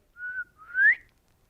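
A person whistles a two-note call in imitation of a whistle: a steady tone, then a louder rising one, both clear and close, with no other sound behind them.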